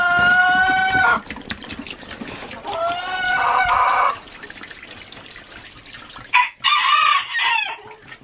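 Chickens in a backyard coop cluck and crow in repeated loud, close bursts, with short pauses between calls and a faint trickle of water behind them.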